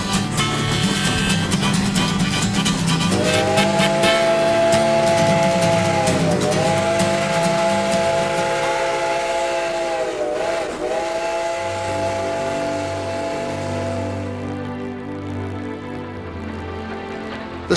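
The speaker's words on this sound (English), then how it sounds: "The spectacular steam train journey along the Trail of 98 provides a dramatic exclamation point to this trip on board the White Pass and Yukon Route Railroad" Steam locomotive of the White Pass and Yukon Route Railroad sounding a long, loud, sustained whistle in several blasts over steady hissing steam and rumbling train noise, with no talk.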